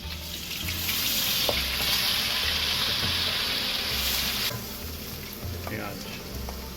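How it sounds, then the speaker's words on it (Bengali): Chopped garlic fries in two tablespoons of hot cooking oil in a wok, making a loud, steady sizzle with occasional stirring over a low hum. "গরম হওয়ার পর 2 টেবিল চামচ কুকিং অয়েল দিয়ে দিলাম। তারপরে দিলাম আমরা রসুন কুচিগুলা দিলাম"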